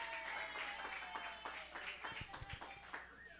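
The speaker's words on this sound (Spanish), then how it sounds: "Démosle un aplauso a Heidi" A church congregation claps for a woman named Heidi as she is called forward, a steady wash of hand claps at moderate level with a few sharper low thumps near the end and murmuring voices underneath.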